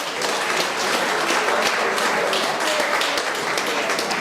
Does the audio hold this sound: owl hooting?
no